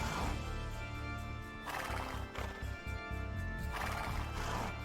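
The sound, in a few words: horse cavalry units in video game Age of Empires II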